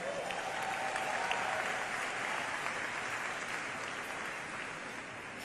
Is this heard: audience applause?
yes